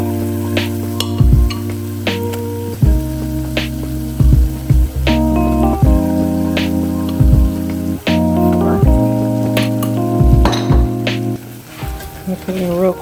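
Butter and flour cook together as a roux for turkey gravy, giving a steady soft sizzle in the pan, mostly buried under loud background music with occasional stirring scrapes.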